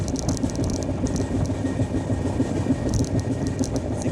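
The Kaghaznagar SF Express runs at about 120 km/h, a dense, continuous roar of wheels and rails with rhythmic clatter and a hissing rush, heard from aboard the train without talk.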